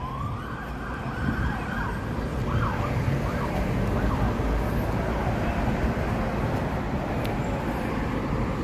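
Police sirens sound on a busy downtown Chicago street, a wavering wail rising and falling partly buried under heavy, dense traffic and city noise, moderately distant rather than close.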